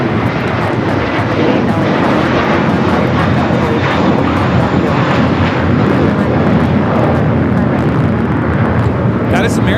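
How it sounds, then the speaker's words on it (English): An American Airlines A321 airliner takes off at LAX, its engines a loud, steady, broadband roar that holds for the whole stretch, heard from a spotting position with wind buffeting the microphone. "2890 taking off to Dallas Fort Worth on the A321"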